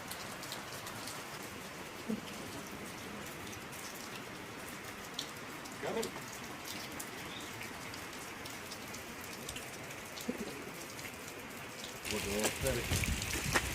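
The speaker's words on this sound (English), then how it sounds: "Not today, because it's raining again." Steady rain patters on a surface nearby, a soft continuous hiss with scattered drips, growing heavier and louder near the end.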